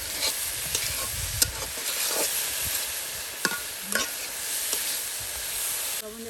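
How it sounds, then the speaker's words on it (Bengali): Boiled Malabar spinach stalks stir-fried dry in oil in an outdoor village kitchen, with scraping spatula strokes over a soft continuous sizzle, close and fairly quiet. "আর সুন্দর করে কিন্তু ঝরঝরে ভেজে নেওয়া হচ্ছে"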